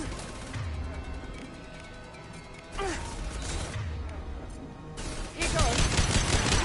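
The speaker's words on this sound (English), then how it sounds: "Taking fire." Gunfire in the video game Mass Effect 2: bursts of rapid shots and crashing impacts come and go under a busy game soundtrack, with game voices faintly mixed in.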